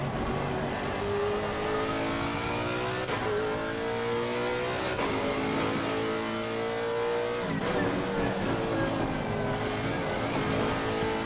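Race car engine in Assetto Corsa Competizione droning steadily throughout, with rising and falling revs as gears shift, loud and close, apparently heard from the driver's position.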